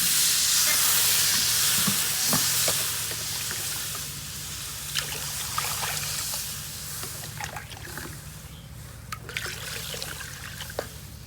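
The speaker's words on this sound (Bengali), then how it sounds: "দিয়ে দিচ্ছি জল।" Water poured into a hot pan of turmeric and chili powder for vegetable khichuri, a loud hissing rush at first that settles into a softer, bubbling sizzle with light clinks.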